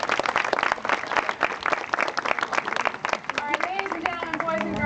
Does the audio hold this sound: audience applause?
yes